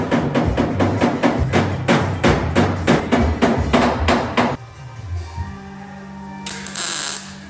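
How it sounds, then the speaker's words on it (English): Welding on an R32 GT-R restoration comes as a rapid series of sharp, evenly spaced bursts, then drops to a low hum and near quiet before a final hiss. "So now the last thing, just go ahead and just start welding it all the way up."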